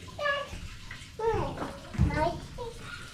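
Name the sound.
water running from a garden hose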